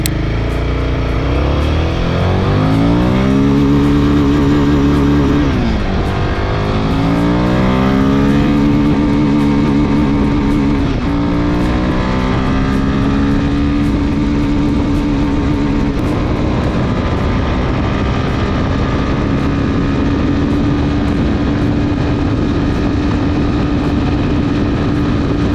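A Royal Enfield Himalayan 450 motorcycle accelerates hard through its first four gears, its loud engine note climbing in pitch, dropping at each shift and climbing again, steady and close throughout with no voices.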